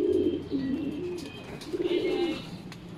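Racing pigeons cooing and calling at a loft in San Leonardo, Nueva Ecija, as the first bird returns from a 76 km training toss, with soft overlapping coos over steady outdoor background noise and no talk.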